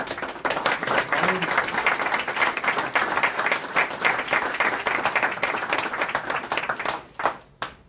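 An audience at a commemoration of the NATO bombing of Yugoslavia breaks into sustained applause, dense clapping from a crowd that carries on strongly before thinning into a few scattered claps near the end.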